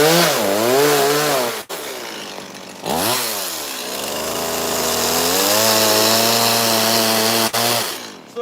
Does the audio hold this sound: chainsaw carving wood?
yes